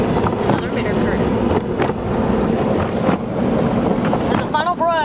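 Side panel blasters in an automatic car wash spray water and foam, making a constant, loud hissing roar with splashing bursts throughout.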